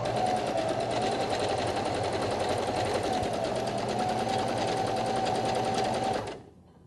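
Home sewing machine running a stretch stitch along a seam in knit fabric, one continuous close whirring hum lasting about six seconds before it stops.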